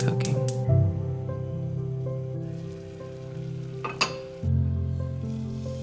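Home-cooked meal sizzling in a pan, a steady close frying hiss with a few clinks and shifts in level, no talking.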